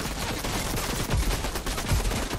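Rapid gunfire from the IO in Fortnite rattles out in dense, overlapping bursts, loud and close, with a couple of heavier low thumps standing out.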